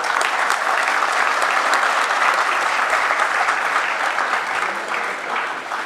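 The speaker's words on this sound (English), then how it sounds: "So we will welcome him with a great applause." Sustained audience applause at a National Science Day program welcoming a guest, steady dense clapping that holds throughout and eases slightly near the end.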